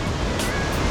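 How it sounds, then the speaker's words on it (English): Ocean waves wash onto a beach near Nauyaca waterfall in Costa Rica, a loud, continuous broadband roar of surf lasting about a second. "We are on the beach."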